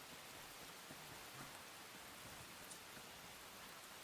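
Steady rain falling in the survival video game Enshrouded, a constant soft hiss of drops on surfaces with no break, moderately quiet and unaccompanied by talk.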